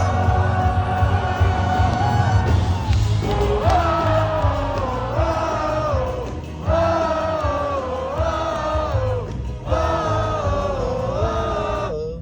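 A live concert crowd at a show sings along in unison, voices rising and falling in repeated melodic phrases, loud and sustained, with cheers and shouts mixed into the crowd roar.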